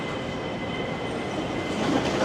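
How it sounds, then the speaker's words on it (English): An airport express train arriving at a Hong Kong station, a loud continuous rumble of wheels and carriages that swells slightly toward the end. "And the train is here."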